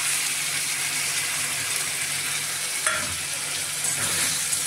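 Spice masala fries in a pan with a loud, constant sizzle up close, and a few soft scrapes of stirring come through near the end.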